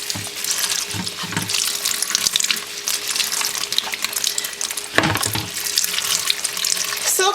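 Tap water runs steadily over silk hankies (mawata) sitting in a colander, a continuous splashing hiss that stays fairly loud and even throughout, with a brief heavier gush partway through and no voices.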